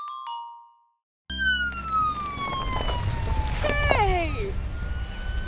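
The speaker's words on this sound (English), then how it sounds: "Look at what I just rode up in. Yeah, it's a police car." A police car siren in a children's show, starting abruptly after a short jingle and a moment of silence, then wailing with long falling tones and faster warbling sweeps, fairly close and loud over a rumbling engine.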